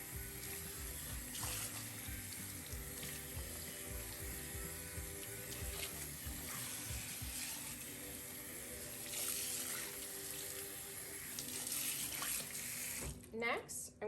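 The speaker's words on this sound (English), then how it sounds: "I'm going to do cool, lukewarm water running throughout." Lukewarm tap water runs steadily from a faucet over a human hair wig in a sink, a continuous even splashing rush that lasts throughout, ending with a few handling knocks.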